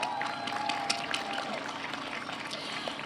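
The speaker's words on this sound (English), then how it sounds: "Let's give AAPI Montclair a huge round of applause" A crowd applauds AAPI Montclair at a lantern festival, a busy, even wash of clapping from many hands that carries on for the whole stretch with a thin tone running beneath it early on.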